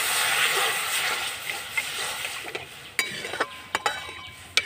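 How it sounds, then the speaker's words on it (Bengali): Water poured onto roasted semolina in a hot pan, a soft hiss fading into sharp intermittent clinks of a utensil stirring against the pan. "জলটা দিয়ে দেব।"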